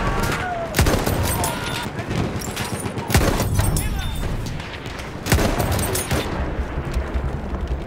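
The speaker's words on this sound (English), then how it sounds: "There's a machine gun." Machine gun fire in a video game rings out in sharp, heavy cracks among rolling gunfire and booms, loud and near, with a voice talking over the combat.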